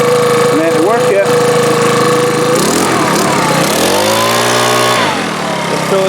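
A petrol leaf blower with a manual choke runs at a steady drone close by, its pitch rising and falling as the throttle changes, with a voice talking over the engine.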